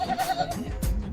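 Goats bleat at a busy livestock market, several wavering calls one after another, close and fairly loud over crowd noise.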